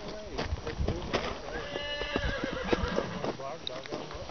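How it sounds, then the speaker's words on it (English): Horses near McClure neigh and whinny while hooves clip-clop, mixed into steady wind noise and outdoor rumble, with people talking over the scene. "Horses, horses, horses."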